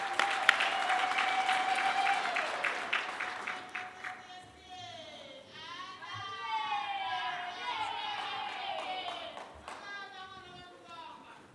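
A university crowd applauds at a vice-chancellor installation ceremony, loud clapping for several seconds with a sustained tone, followed by high wavering, whooping cries and voices rising and falling through the hall.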